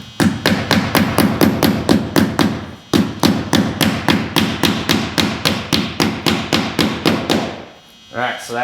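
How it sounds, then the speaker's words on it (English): Rapid, steady hammer blows drive roofing nails through asphalt shingle step flashing, about two strikes per second, loud and close, with a brief pause midway and a short rustle at the end. "Using roofing nails again. And I'll go ahead and put one in the front here."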